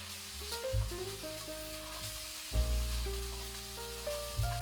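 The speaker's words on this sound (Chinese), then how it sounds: "再次翻炒" Crab pieces stir-fried in a pan after a splash of yellow rice wine, a steady fizzing sizzle with stirring scrapes, under soft background music.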